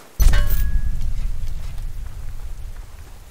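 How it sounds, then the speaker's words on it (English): Rain falls steadily in the video game Warzone, opening with a sharp thud or thunder-like boom before the rain patters on as a dense, continuous hiss that slowly fades, with no talking. "It wouldn't be so bad if it wasn't for the rain."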